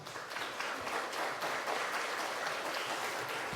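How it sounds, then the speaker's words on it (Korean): A church congregation claps steadily in welcome of a pastor, a continuous wash of applause from many hands with no voices over it. "우리 이 자리에 모실 때에 우리 박수로 환영하시겠습니다."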